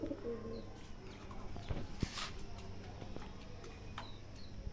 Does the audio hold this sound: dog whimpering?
no